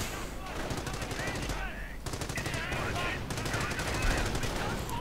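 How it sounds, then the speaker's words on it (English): Artillery and small-arms gunfire from a World War II strategy game, a dense run of rapid machine-gun bursts and repeated shots over a continuous battle din, loud and steady throughout. "And a bit of artillery going in there on the Germans. Anti-tank gun has been cleared out. Artillery firing away."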